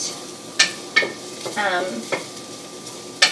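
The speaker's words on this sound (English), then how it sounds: "So I've got the garlic going in the pan." Garlic sautés in a pan, sizzling softly as a wooden spoon stirs it in a few distinct scraping strokes spaced about half a second to a second apart, close by with no talking.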